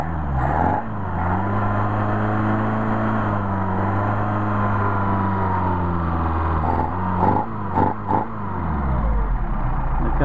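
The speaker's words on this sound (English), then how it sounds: "We've got a real nice steady idle" A car engine fed by Solex 44PHH carburetors idles steadily with a low, even hum, close and loud, with a few brief blips of throttle near the end.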